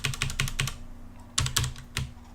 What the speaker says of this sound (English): Oh, I'm still typing that in wrong.